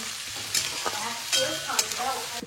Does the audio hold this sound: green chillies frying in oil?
yes